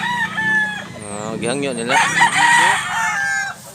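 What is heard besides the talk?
rooster crowing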